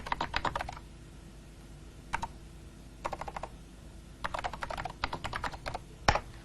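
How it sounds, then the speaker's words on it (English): Fast bursts of typing on a computer keyboard during a NeXTSTEP operating system demonstration, close, crisp clattering keystrokes in several short runs with pauses between. "and I can type."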